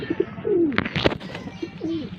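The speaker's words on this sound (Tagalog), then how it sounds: "At ito nga naman po yung kalapati natin." Pigeons cooing close by, a few soft throaty coos in quick succession with small wing or movement sounds between them.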